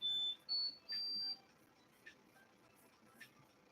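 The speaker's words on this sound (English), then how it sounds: "Oh, the printer's done." A home printer signals a finished job with three clear, high electronic beeps in quick succession, the last held longest, followed by faint clicks in a quiet room.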